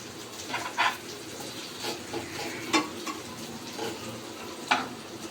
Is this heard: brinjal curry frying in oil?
yes